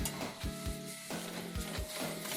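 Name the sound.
ghee sizzling in a pan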